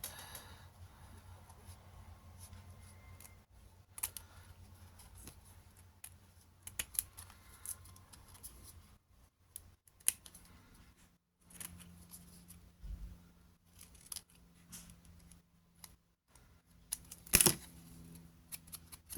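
Scissors snip around the edges of paper specimen cards for a junk journal, giving scattered close cuts at irregular intervals, with quiet gaps and handling noises between the snips.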